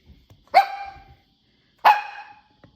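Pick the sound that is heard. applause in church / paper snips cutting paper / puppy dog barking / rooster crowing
puppy dog barking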